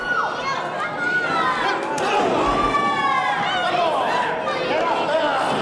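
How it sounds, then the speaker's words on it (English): Crowd at a live pro wrestling show calling out and heckling, a loud, continuous mass of voices and jeers with whistles and shouts rising over it throughout. "Some heckling from the crowd out here."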